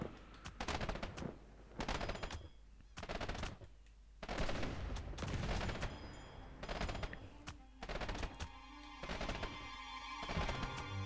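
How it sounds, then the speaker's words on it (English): Musket volleys in the video game Airships: Conquer the Skies, repeated bursts of crackling gunfire with heavy thuds, overlapping and loud, coming in uneven waves across the battle. "Keep firing, boys. Those muskets are brutal."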